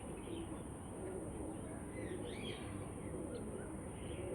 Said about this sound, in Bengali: সাদা পায়রা